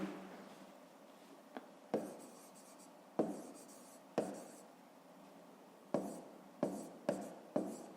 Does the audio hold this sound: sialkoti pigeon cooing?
no